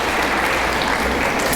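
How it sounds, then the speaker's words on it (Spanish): Women in a church congregation applaud the men during a Sunday sermon, a dense, steady burst of clapping from many hands that carries on loudly throughout. "Mujeres, aplaudan a los hombres, por favor."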